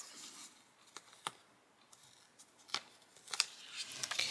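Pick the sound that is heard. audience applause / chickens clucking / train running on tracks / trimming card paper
trimming card paper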